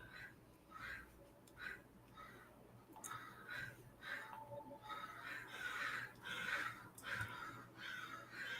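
Crows cawing outdoors, a loose series of harsh repeated caws at a moderate distance, some overlapping, over a faint low hum.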